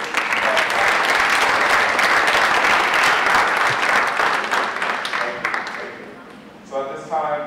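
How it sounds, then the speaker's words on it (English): Loud, sustained applause from a conference audience at a summit, steady for most of the stretch before thinning out and fading near the end as a voice begins over it. "Give one more round of applause."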